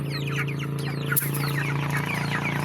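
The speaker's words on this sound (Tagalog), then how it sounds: "meron din po kaming alagang mga chicken" Backyard chickens cluck in a steady stream of short, overlapping calls at close range, with a constant low hum from the yard underneath and one brief sharp knock partway through.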